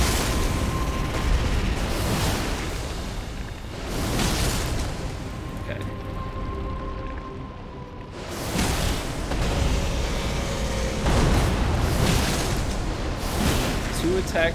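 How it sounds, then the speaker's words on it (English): In the Elden Ring video game, a boss summons skull explosions, heavy booming blasts that roll out in repeated waves with rumbling debris between them, while a player talks over the action. "he just starts to summon all of those, like, skull explosions"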